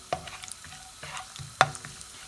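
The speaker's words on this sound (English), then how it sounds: "So I'm gonna stir fry it till it becomes nice brown and crispy" Dry fruits stir-fry in ghee in a pan: a soft sizzle runs under a few quick, sharp clinks and scrapes of the spoon, one of them louder than the rest.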